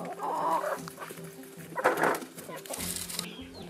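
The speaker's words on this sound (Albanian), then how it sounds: "Do çelim pulat." Hens clucking on a small farm, a few short close cackles and clucks over a light background murmur, with a brief burst of louder activity near the end.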